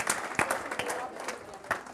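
Scattered audience applause at a conference keynote, a few distinct claps standing out over a light, thin patter, fairly quiet and brief.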